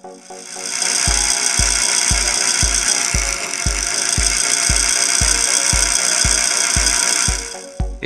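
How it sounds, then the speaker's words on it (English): A homemade brushed DC motor runs off a bench power supply, giving a steady close whir with about fourteen evenly spaced clicks that tick at a regular rhythm throughout. "It works! Our engine starts to rotate."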